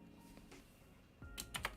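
A few quick keystrokes on a computer keyboard while labeling a trading chart, soft scattered taps followed by a brief cluster of sharper clicks near the end.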